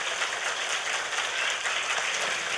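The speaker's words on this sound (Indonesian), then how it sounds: "Tepuk tangan dulu dong buat panitianya" Mosque audience at a religious gathering clapping for the organizing committee, a dense, even wash of many hands heard from a moderate distance without pause.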